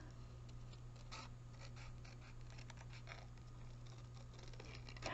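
Scissors snip through designer series paper, close and quiet, a run of short crisp cuts and rustles over a low steady hum, with no talking.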